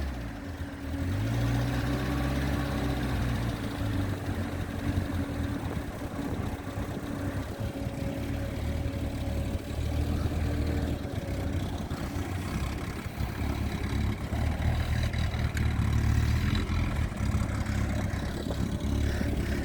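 A motorcycle engine runs steadily at idle, a continuous low rumble with mechanical clatter, close and alone with no talk, during work on a faulty electrical board and fuses.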